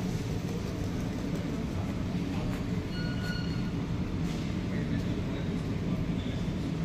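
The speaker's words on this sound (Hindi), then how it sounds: "और ये मेट्रो आई है यहाँ पे" A Dubai Metro train pulls into a station with a steady, loud, continuous rumble and rolling rail noise, and faint voices in the background.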